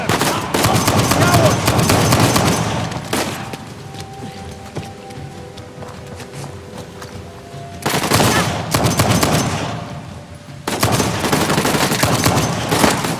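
Gunfire in Uncharted: The Lost Legacy, arriving as three loud sustained bursts of rapid shots separated by a quieter stretch of lighter ambient sound.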